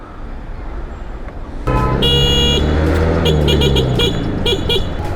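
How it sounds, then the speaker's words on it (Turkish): Heavy road traffic swells suddenly into a loud, dense roar, with a string of short car horn toots repeating over the constant engine noise. "Trafik berbat halde gerçekten."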